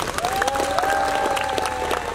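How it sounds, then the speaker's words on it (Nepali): Applause from a live comedy-show audience, a dense, steady patter of many hands clapping throughout, with some higher tonal sounds running through it. "एकचोटि ताली बजाइदिनुहोस् त"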